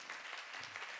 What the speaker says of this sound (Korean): 우리 한번 박수합시다.